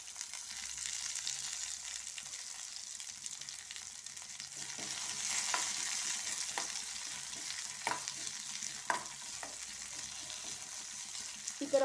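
Green chillies and curry leaves spit and sizzle in hot ghee for a tempering, a steady crackling hiss with a few sharp pops and stirring scrapes, close by and without talk.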